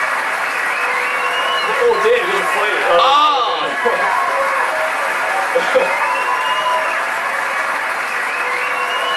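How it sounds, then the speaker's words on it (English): Crowd applause in The Gunstringer video game, a steady dense clatter of clapping running throughout at fairly loud level, with a voice talking and exclaiming over it. "And they're applauding for it."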